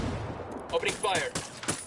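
Gunfire in the tactical shooter Ghost Recon Wildlands, a handful of sharp shots and short bursts spaced irregularly over an ambient background, fairly close and loud.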